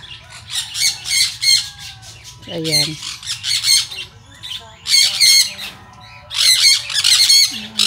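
Birds squawking and chirping outdoors along a path, loud harsh calls repeating in bursts with short quiet gaps, while a person speaks briefly between them.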